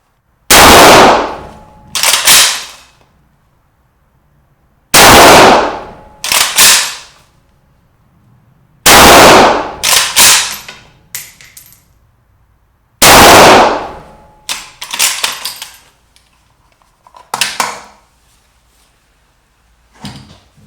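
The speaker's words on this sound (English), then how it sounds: "Just going to fire a few rounds to show basically the operation of the rifle." A WBP AK47/AKM straight-pull rifle in 7.62x39 fires single rounds from a 10-round magazine: four sharp, loud reports spaced a few seconds apart, each followed by an echoing tail and the clack of the action being worked.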